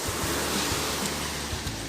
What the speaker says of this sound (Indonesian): sekarang kita mau lihat anak-anak bocah menikmati ombak